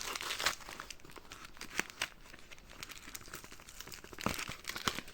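A plastic packaging bag crinkles and crumples as it is opened while unpacking a coin parcel, with soft rustling and a few sharper crackles, close and fairly quiet with no talk.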